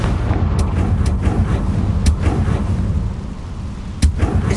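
Confringo fire spell cast in Hogwarts Legacy, a rumbling, booming blast with sharp cracks at the start and a sudden hit near the end, carried on a steady low roar.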